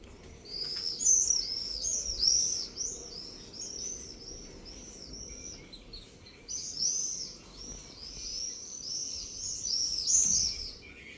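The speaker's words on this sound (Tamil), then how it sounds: "சாயந்தர டைமு குருவி சத்தம்லாம் பாருங்கள்." Small sparrows chatter in the evening in a home jasmine garden, with a dense run of high, quick chirps that fades briefly midway and then resumes, moderately close, over a low ambient hum.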